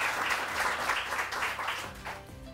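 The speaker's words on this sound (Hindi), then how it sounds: "बहुत बहुत बहुत बहुत बहुत सारी तालियां" A studio audience on a morning television show applauds, dense sustained clapping that stays loud throughout, then thins slightly toward the end.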